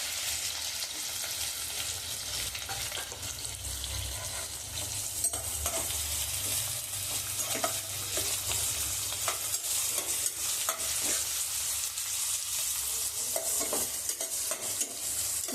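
Chopped onions sauté in a pan for prawn biryani, a steady crackling sizzle with frequent scraping stir strokes running throughout, fairly close and with no talking.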